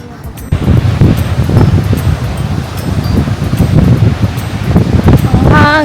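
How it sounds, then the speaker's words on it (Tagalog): Strong wind buffets the microphone on a beach, a loud continuous roar with gusting rumble throughout and a brief voice near the end. "Ang hangin!"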